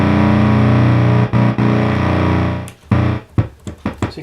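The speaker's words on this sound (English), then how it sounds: "So you can hear we have 0 decay now. It's just a click." A restored R.A. Moog Minimoog synthesizer holds a loud, buzzy sustained tone that cuts out briefly twice, then fades and gives way to a run of short, sharp clicks as the decay is set to zero.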